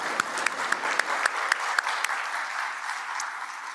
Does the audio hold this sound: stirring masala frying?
no